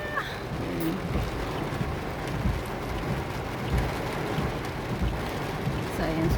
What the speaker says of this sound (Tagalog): Lakas ng ulan, tapos baha na siya agad.